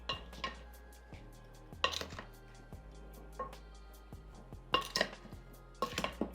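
Vegetables are tossed with seasoning in a bowl, producing a quiet series of irregular clinks and scraping knocks from utensils against the bowl, spaced out across the clip with no talking.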